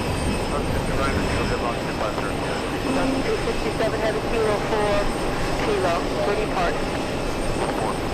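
A Delta Boeing 747 arriving from Paris at JFK, its jet roar steady under ongoing radio chatter and voices, with a few faint tonal chirps layered over the engine noise.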